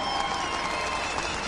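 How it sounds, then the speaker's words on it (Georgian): An audience applauds in steady, dense clapping that holds at an even level from start to finish, with no voices over it. "კიდევ ერთხელ მადლობა მათ და აპლოდისმენტები"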